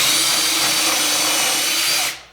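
Power drill driving into wood while building a raised garden planter bed, a loud continuous high whine held steady for about two seconds before cutting off abruptly.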